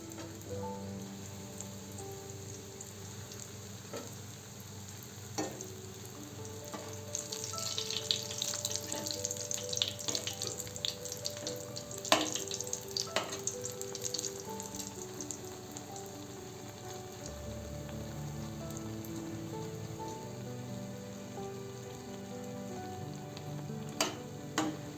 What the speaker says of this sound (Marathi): आपले ब्रेड तळून झालेले आहे।